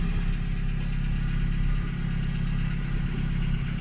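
A 1964 Renault Gordini R1095 runs after its first startup of the year, holding a steady, low, rumbling idle at close range without any noticeable revving or voices.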